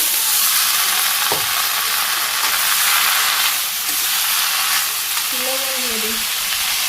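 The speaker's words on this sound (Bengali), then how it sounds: "তেলে আমি শাক দিয়ে দিব" Leafy greens frying in hot oil in a village kitchen in Bangladesh, a loud, steady, close hiss of sizzling that runs unbroken, with a brief faint tonal sound near the end.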